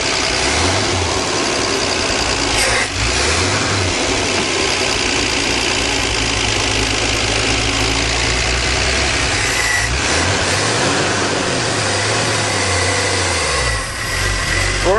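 A 1977 Dodge van's old gasoline engine runs steadily and loud for the whole stretch, a deep rumbling drone with slow rising and falling pitch sweeps as the throttle shifts, heard from inside while driving.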